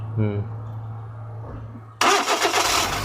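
A Suzuki K6A car engine with a crank and cam sensor problem is cranked by the starter, then pauses. It suddenly fires into a loud, close running roar, with voices heard in the background.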